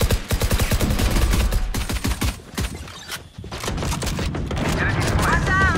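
Sustained rapid gunfire from a video game shooter, loud and close, in quick repeated bursts with a brief pause midway, while a player talks over it.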